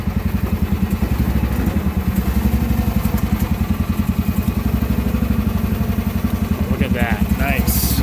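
A Chinese mini excavator's small engine idles with a steady, fast, lumpy knock that runs evenly from start to finish, fairly close and loud, with a few faint clanks near the end.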